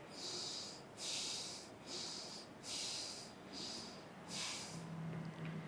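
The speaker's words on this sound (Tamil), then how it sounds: "இப்போ மெதுவாக மூச்சை உள்ளெடுத்து மெதுவாக மூச்சை வெளியிடுங்க ஒரு 3 முறை" Slow, deep breaths taken during a guided chakra meditation, six airy hissing breaths in and out at an even pace, close and clear, with a faint low hum near the end.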